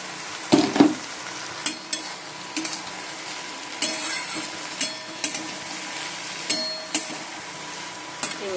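Poppy seed, mustard and green chili paste going into a wok of Bengali fish curry, with a steady low sizzle of frying under repeated spoon clinks and scrapes against the wok, close by and without speech.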